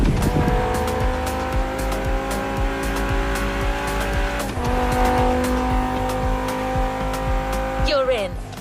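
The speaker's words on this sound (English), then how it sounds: "Good thing you're driving the 1969 Camaro Z28." 1969 Camaro Z28 in The Crew Motorfest, its engine roaring loud and steady with sustained tire squeal and skidding throughout and a brief rev dip midway, while a voice talks over it.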